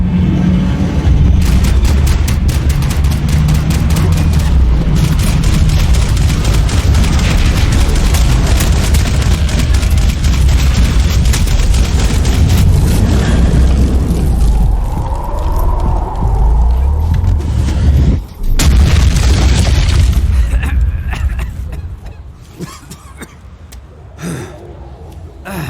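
Gunfire and explosions from the video game Max Payne 3 pound continuously in a loud, dense barrage, with heavy booms and rapid shots, before thinning out near the end.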